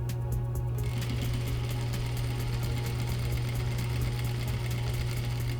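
A sewing machine runs steadily while stitching a patch pocket onto fabric, with a loud, continuous, close whirring hum and fast needle chatter. A brief clicking burst comes at the very start.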